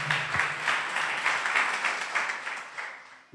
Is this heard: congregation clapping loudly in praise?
yes